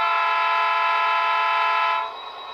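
Horn of an Athearn RTR SD40 model diesel locomotive with Economi sound and DCC, one sustained multi-tone blast lasting about two seconds before cutting off to the idling engine, close and loud.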